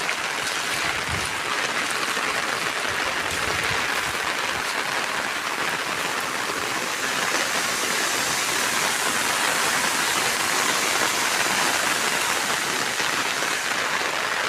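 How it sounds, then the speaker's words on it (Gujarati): Torrential monsoon rain beating down across flooded fields with knee-deep water, a thick, continuous rushing roar like a waterfall, loud and close, holding steady throughout with no talking. "ફૂલ ધોધમાર વરસાદ"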